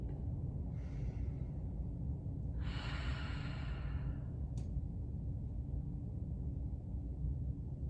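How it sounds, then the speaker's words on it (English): Deep breaths during vinyasa yoga practice come as two soft airy exhalations, the second longer and stronger, faint against a steady low background hiss with no talking. "Keep on breathing deep."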